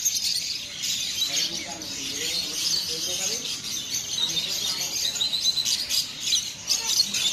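Many small birds chirp and tweet constantly in a busy, crowded chorus at a bird market in Souq Al Wakrah, Qatar, with faint voices and market noise mixed in.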